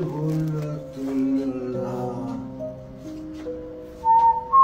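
A person whistling a wavering, slow tune close by, with a couple of brighter, louder whistled notes near the end.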